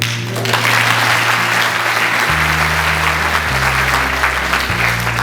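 A large audience at a National Youth Day talk applauds in a loud, continuous wash of clapping, with a low sustained musical tone shifting pitch underneath.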